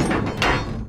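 A designed door-opening effect layered from rattles and sliding, as on a train: a single dense burst of rattling and scraping slide that swells mid-way and fades, close and fairly loud with no talk.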